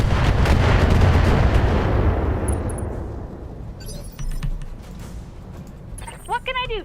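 Heavy game gunfire in a streamed shooter, a loud rolling barrage that gradually fades over several seconds, followed by scattered mechanical clatter and a short burst of bright warbling electronic tones near the end.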